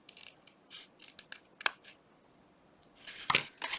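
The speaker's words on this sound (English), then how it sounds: "And we're just going to cut this apart." Scissors snip through paper ephemera in a quiet craft space, a series of short, crisp cuts in separate bursts, with a denser flurry of snips near the end.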